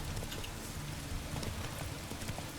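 Horse hooves clip-clopping at a race track in the video game The Witcher 3: Wild Hunt, a steady, even stream of rhythmic hoofbeats at moderate volume, with no voices.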